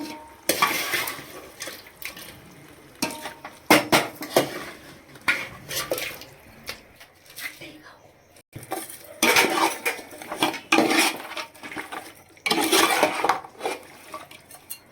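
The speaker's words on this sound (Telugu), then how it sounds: "ఆల్రెడీ కుక్ చేసుకున్నటువంటి మటన్ వన్ కేజీ మటన్ కూడా ఈ మసాలాలో ప్రాపర్గా మిక్స్ మిక్స్ చేసుకొని" A spoon scrapes and clanks against a pot while a kilogram of boiled mutton is stirred into masala for homemade mutton biryani; loud, close, irregular bursts of metallic stirring with brief pauses and no talk.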